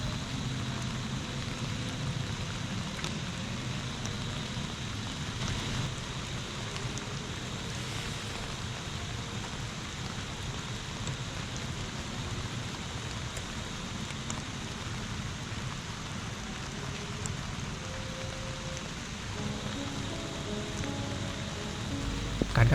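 Steady rain pattering on a tent at a mountain campsite, a continuous soft hiss with scattered drop taps, even and fairly close throughout with no talk.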